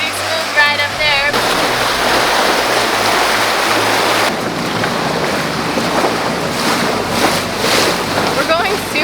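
A sailboat towed at 7.4 knots with its stern nearly underwater produces a loud, continuous wash of rushing water and surging waves, with heavy wind buffeting on the microphone throughout.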